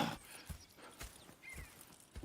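Horses in Red Dead Redemption 2 clip-clop in uneven hoofbeats at moderate distance, with a brief whinny midway and soft ambient background, no speech.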